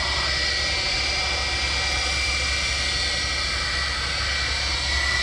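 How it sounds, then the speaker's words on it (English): Aircraft engines at Manchester Airport, among them Boeing 757 jets, give a steady, loud, continuous roar and whine that holds unbroken throughout. "Listen to the whirl of them engines."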